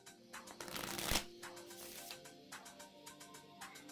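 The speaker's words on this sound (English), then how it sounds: "make sure the cards are well shuffled." A deck of playing cards is shuffled on a table, a riffle building to a loud ruffling burst, then followed by a run of soft, evenly spaced card flicks and taps.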